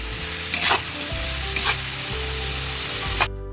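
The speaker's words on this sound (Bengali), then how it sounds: "গরম তেলে আমি আলুটা ভেজে নিলাম।" Potatoes sizzle steadily in hot oil, with a few scraping stirs of a utensil against the pan.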